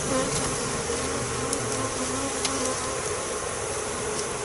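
A dense mass of bees drones continuously during a swarm inspection, a loud close buzz with faint clicks scattered through the steady hum.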